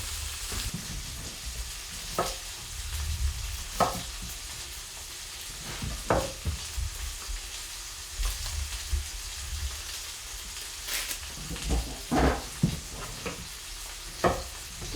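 Steak sizzling in a griddle pan, a steady crackling hiss with scattered sharper pops and occasional clattering handling sounds throughout.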